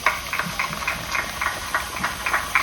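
Rhythmic chuffing and hissing of steam engines running nearby at the Innishannon steam and vintage rally in Ireland, with regular puffs repeating over a constant mechanical hum.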